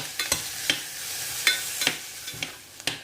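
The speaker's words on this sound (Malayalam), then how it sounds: "മീഡിയം ഫ്ലെയിമിലിട്ട് ഇളക്കി കൊടുത്ത ഉള്ളിയാണത്" Onions fry over a medium flame in a pan, a soft sizzle beneath a series of sharp scraping stirs from a spatula at irregular intervals, close and clear with no talking.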